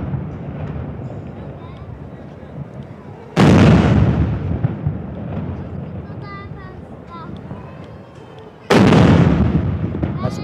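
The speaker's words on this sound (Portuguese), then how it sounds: "são 19 tiros ao comandante do Exército Brasileiro." Artillery pieces fire a ceremonial salute for the commander of the Brazilian Army at a military school, with two heavy booming blasts several seconds apart ringing out over a speaking voice and crowd background.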